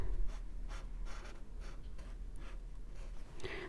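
Pencil scratching across paper in rapid back-and-forth strokes, close and steady, a soft rhythmic rasp with no talking.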